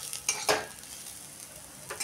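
Masala with a spoonful of poppy seeds stirred in a pan for Kolhapuri white rassa: a few soft, faint scraping strokes with a light sizzle, heard alone.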